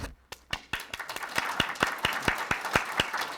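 A small audience at a Beyond the Yellow Ribbon proclamation ceremony breaks into applause, a few scattered claps quickly building into a steady, moderately close patter of hand claps.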